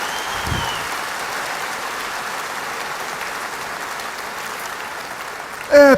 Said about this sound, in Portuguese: Pode aplaudir, Jesus é digno